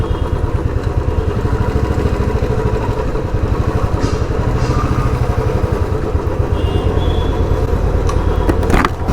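A Royal Enfield Bullet 350 thumps steadily at low speed as it rolls into a service showroom, its loud, close single-cylinder beat running continuously with a few clanks near the end.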